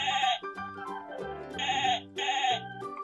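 A sheep on a farm bleats three times in loud, close, wavering cries separated by brief pauses.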